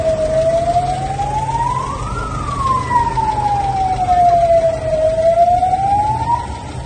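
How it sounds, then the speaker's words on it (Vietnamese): Ambulance siren wailing as one of many ambulances gathers in Bac Giang during the Covid-19 outbreak, a single loud tone sweeping slowly up and down over steady traffic rumble, with no talk. "ngay lúc này là có 16 chiếc xe cứu thương đã tập kết về đây để"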